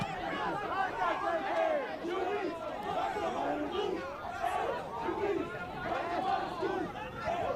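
Soccer crowd at a boys high school senior night match between Everett and Lynn English, murmuring and calling out in displeasure over a no-call, a steady mass of overlapping distant voices.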